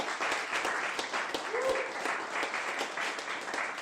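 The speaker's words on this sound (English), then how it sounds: "please, a round of applause for our panelists" Audience applause for panelists at the close of a workplace-safety presentation: a full, continuous round of clapping from a sizable crowd, steady and fairly loud for the whole stretch.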